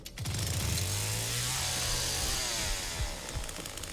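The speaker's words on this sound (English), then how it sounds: "And then that's your chainsaw." A chainsaw starts and roars in The Texas Chain Saw Massacre video game, a loud sustained buzzing engine with a rising pitch at first, then a steady harsh drone.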